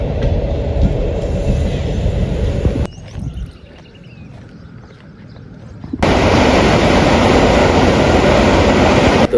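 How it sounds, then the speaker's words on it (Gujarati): A train roars past loudly and close, a heavy rumble that drops away into a quieter gap before the passing rush surges back at full volume. "રેલગાડી"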